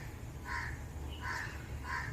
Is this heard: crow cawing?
yes